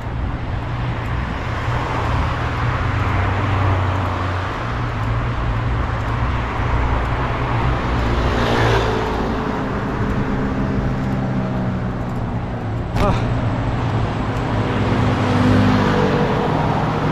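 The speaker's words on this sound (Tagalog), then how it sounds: "dami mga sasakyan ngayon dito." Heavy rush-hour road traffic with many cars streaming past, a continuous loud roar of engines and tires with occasional vehicles swelling nearer, heard from a rider on the road.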